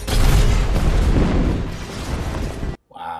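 Gunfire and explosions from the film Captain America: The Winter Soldier make a loud, continuous booming rumble with heavy low-end blasts that cuts off abruptly near the end.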